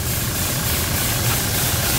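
A red Toyota Hilux engine runs steadily after a starter motor repair, a loud, close, continuous idle rumble with hiss and vibration and no talking.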